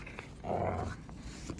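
A pit bull growls low and rough at close range, a short rumbling burst that swells briefly in the middle and then fades, with no one talking over it.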